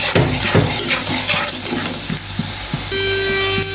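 Spices and golden onions fry in a pan with a loud, steady sizzle, broken by repeated scraping and clinking as the mixture is stirred, close and without speech.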